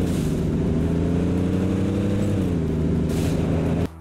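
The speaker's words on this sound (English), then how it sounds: "and the roar in a Dodge Challenger." Dodge Challenger in the racing video game L.A. Rush, a deep loud engine roar with strong low harmonics that dips slightly in pitch midway, steady and close, stopping sharply at the end.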